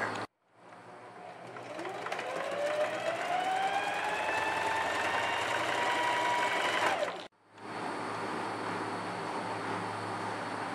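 A domestic sewing machine stitches a seam in an elastic band for a children's outfit, its motor whirring steadily and close for several seconds, rising in pitch as it speeds up, then stopping briefly before running again.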